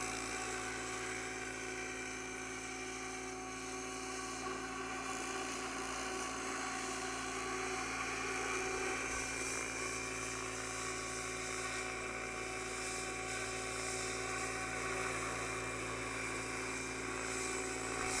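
Align T-Rex 760X RC helicopter flying slowly, giving a steady, loud whine and rotor drone with high tonal harmonics that hold unbroken from start to finish, with no voices.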